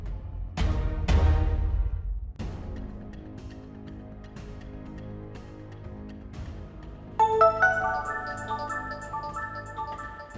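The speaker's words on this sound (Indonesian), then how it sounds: "Ini handphone kamu, ada telepon." A mobile phone ringtone plays for an incoming call, its bright repeating melodic chime entering partway through over sparse plucked background music, with no talking.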